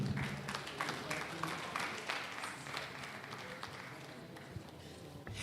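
Applause from a lecture audience, steady clapping that stays fairly even across the whole stretch, with some background voices mixed in.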